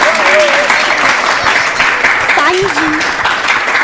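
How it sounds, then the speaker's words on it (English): A temple congregation at a Sunday evening Vedic school gathering applauds a children's class, a loud, dense, continuous clapping close by with voices talking over it. "So another round of applause for our Gopal class."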